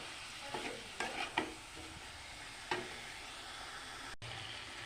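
Onions sautéing in a pan for mutton curry, with a low steady sizzle broken by several short scraping stirs, the clearest clustered in the first second and a half, heard close with no voices.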